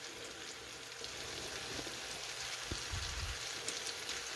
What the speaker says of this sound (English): Yeah, them apples frying